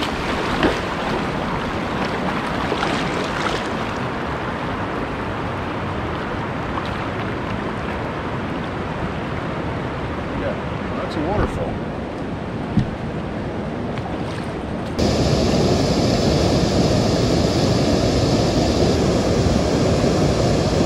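Whitewater rapids and a small waterfall on a northern river make a constant loud rushing roar heard from a canoe. Wind buffets the microphone, and the water grows louder and brighter near the end.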